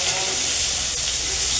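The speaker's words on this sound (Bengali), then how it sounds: "বেগুনগুলো আমি সুন্দর করে ভেজে তুলে নেব।" Eggplant pieces fry in hot oil with a dense, steady hiss that stays level through a brief moment, close and fairly loud, with no talking.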